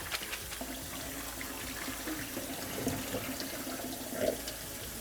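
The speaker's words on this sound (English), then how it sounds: "I'm going to be rinsing this off with cold water just to stop the cooking" Cold tap water runs steadily over cooked pasta in a sink, a continuous close splashing hiss with small spatters and surges as the pasta is rinsed.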